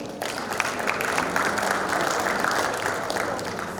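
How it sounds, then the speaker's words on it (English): Round of applause from an assembly of registered quantity surveyors, a crowd clapping steadily and fairly loud, starting after a brief quiet moment and sustaining evenly. "Please, a round of applause."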